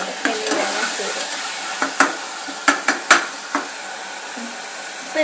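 Tomatoes being sautéed and mashed in oil for a biryani: steady frying sizzle with sharp intermittent knocks and scrapes of a spoon pressing against the pan, close and fairly loud, with no talk.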